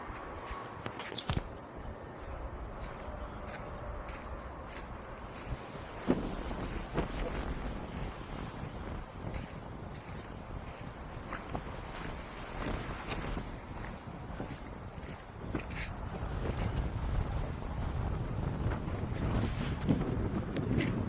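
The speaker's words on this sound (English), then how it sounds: "Because it is windy." Wind gusts steadily outdoors, buffeting the microphone with a continuous rumbling roar that swells and eases across the whole stretch and grows stronger near the end, with a few faint knocks and brief voices mixed in.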